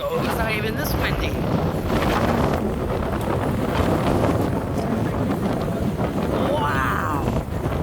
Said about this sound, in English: I've never felt wind like this before.